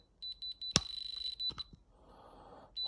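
Electronic diamond tester used on a gemstone, giving a run of short, even, high-pitched beeps that stop and start, with a brief louder click partway through; faint handling noise, no voices.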